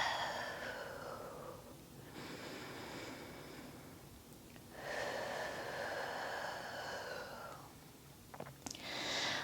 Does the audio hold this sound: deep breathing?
yes